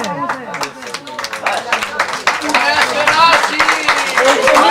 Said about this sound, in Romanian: Să trăiască, aplauze!